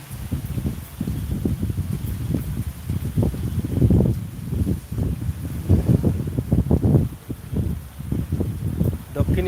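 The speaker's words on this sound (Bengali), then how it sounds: "দক্ষিণী বাতাস উত্তরের দিকে যাচ্ছে আজকের বৃষ্টিতে।" Gusty wind during a rainstorm in the Bishwanath area, heavy low rumbling buffets against the microphone that rise and fall in repeated surges across the whole stretch.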